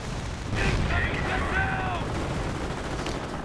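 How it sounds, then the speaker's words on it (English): Artillery fire in a WWII strategy video game, a muffled rumbling barrage with a brief rising whistle, heard under a person talking. "And artillery going in"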